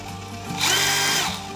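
A Stanley FatMax SBD715D2K cordless drill spinning at its slowest speed setting, a brief, soft motor whir that swells briefly and then settles, with no voices.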